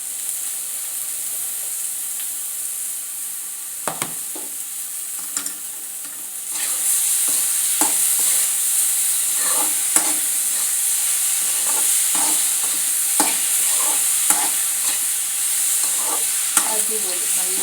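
Grated coconut frying in a pan, a steady soft sizzle broken by repeated scraping stirs of a utensil, louder and busier in the second half, with no talking.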